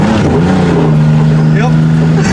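A 1990 Pontiac 6000 AWD accelerates hard at full throttle, its engine drone holding loud and steady up close with a rising tone, heard from inside the car.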